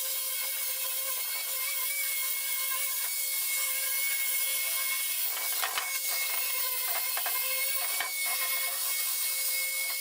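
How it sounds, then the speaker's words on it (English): Reclaimed lumber sanded by hand with 60 grit sandpaper: continuous close, rough scratchy rasping in steady back-and-forth strokes, with a few sharper scrapes and knocks partway through. "This is probably 60 grit that I'm using here."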